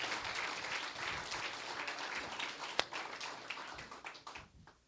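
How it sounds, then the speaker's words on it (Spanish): A church congregation applauding, with sustained dense clapping from many hands that fades out toward the end, and one sharp tap standing out midway. "Denle un fuerte aplauso a Dios y siéntese."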